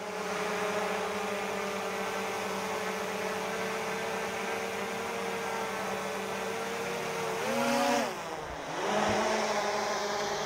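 DJI Mavic Air 2 drone fitted with Master AirScrew stealth propellers hovering close by with a steady whining hum, then briefly throttling up with a rising then falling pitch sweep before settling again.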